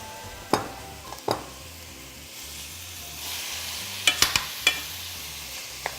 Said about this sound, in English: Next up, we have our ground beef. Want to get this browned in there.